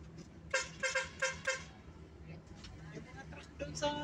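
A truck's musical air horn sounds a quick series of four or five bright toned blasts in a row, fairly close, with people talking over and around it.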